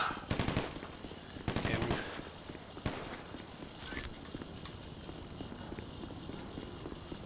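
Gunfire in GTA 5, a couple of loud rapid automatic bursts near the start followed by single shots and quieter scattered pops and game noise.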